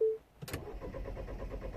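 A Mini Cooper S with an N14 engine, failing to start from a missing crank or camshaft signal, cranks over with a rapid even churning after a short click, moderately close and with no talk.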